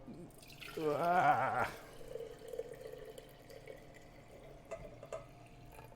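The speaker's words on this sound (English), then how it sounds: "Oh, I don't know if I can pour this very well though." A vinegar, water and salt brine is poured into a jar in a brief gurgling pour of about a second, followed by faint drips and small clinks, with a short exclamation from a voice.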